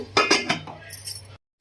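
A metal lid set onto a cooking pot of dry fish and egg curry, giving a few quick clinking knocks in succession, followed by a faint rattle and then silence.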